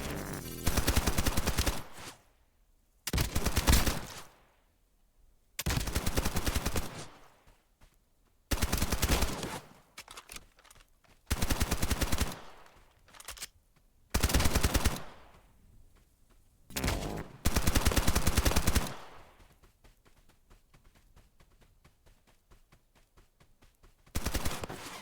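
Bursts of gunfire in the shooter game Escape from Duckov, several loud volleys of rapid shots separated by short pauses, with a quieter stretch near the end.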